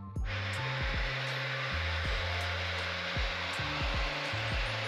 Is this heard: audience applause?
no